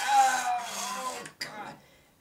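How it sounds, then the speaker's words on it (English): Vintage vacuum surface nozzle scraping across a hardwood floor, a close, harsh rubbing rasp that runs steadily for over a second, breaks off briefly, then returns more faintly. "That scraping noise you don't want to hear."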